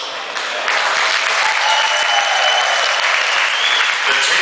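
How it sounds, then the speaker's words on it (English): A crowd of spectators at a wrestling tournament breaks into applause to thank the staff, and the clapping rises quickly to a loud, steady wash that continues throughout. "We'd like a round of applause for the following groups of people, and thank you for your work."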